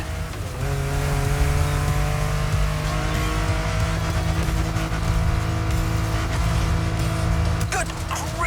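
A car in the off-road racing game The Crew Motorfest roars downhill at full speed, its engine holding a loud, steady high-revving drone with tire noise, without any talk.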